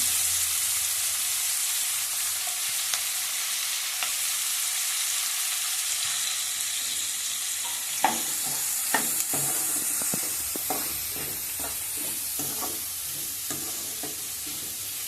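Finely chopped onions and green chilli pieces fry in oil with a pinch of mustard and fenugreek seeds, giving a continuous close sizzle; in the second half, repeated scraping stir strokes clack against the pan.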